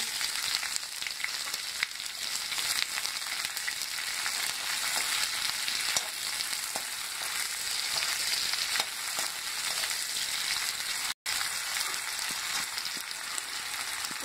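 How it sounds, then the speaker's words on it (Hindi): Onions fry in hot oil for veg dum biryani, a dense continuous sizzle close up with occasional faint stirring touches and a brief dropout near the end, no voices. "अब इसमें मैं फ्रेंड्स ये प्याज डालूंगी"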